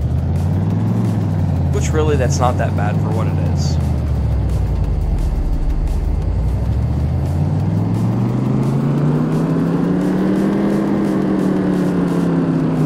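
Carbureted car engine in a Car Mechanic Simulator 2018 dyno run, revving and sweeping up and down in pitch, loud and steady throughout 13 seconds, with someone talking over it.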